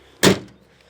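A car door's remote central locking actuates with a single quick, loud mechanical clunk close by, followed by quiet.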